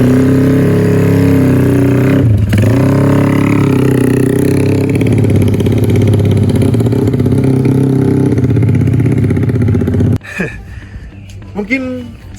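A bored-up Yamaha Jupiter MX motorcycle engine with a decompressor runs loud and close, holding a steady roar with a brief dip, then cuts off, followed by faint handling noises.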